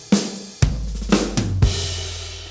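A Beat Buddy drum machine plays a short fill: a tom hit, quick snare strokes, then a final booming tom that rings out, punchy and close with no voices.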